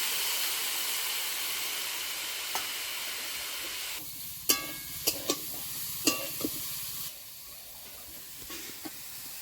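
Cauliflower curry sizzles and hisses steadily in a pan as it is sautéed, with a few sharp clicks and taps of stirring scattered through the middle, close and moderately quiet, with no talk.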